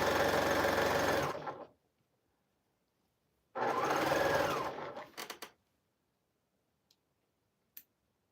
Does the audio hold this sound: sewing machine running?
yes